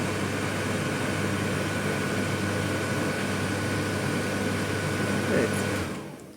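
A Beko-Arcelik tumble dryer runs with its heating element on, giving a steady, loud mechanical hum and whir that holds evenly before dropping off at the end.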